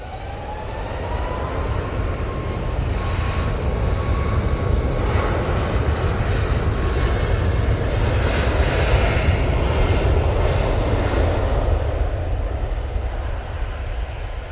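A plane flies low overhead at Manchester Airport, its loud jet engine roar swelling and staying steady as it passes close above, heard alone without talk.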